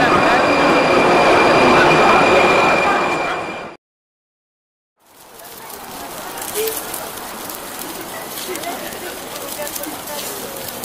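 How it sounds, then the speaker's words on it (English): A Prague metro train rumbles loudly with broadband roar, cuts to a second of silence, then the ride noise returns somewhat quieter with faint squeals. "From the Jewish quarter, there is a 14-minute metro ride to"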